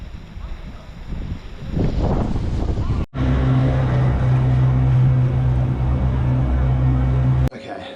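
A boat ride back from Namua Island in Samoa: a loud, steady motor drone with wind buffeting and rushing water, preceded by a voice talking and a brief cut in the sound.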